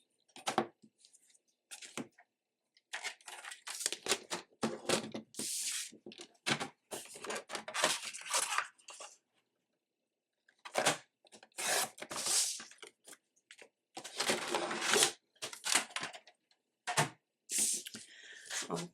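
Paper being trimmed to size by hand, heard as a series of short scraping, tearing cuts and rustles separated by brief pauses, close and fairly quiet.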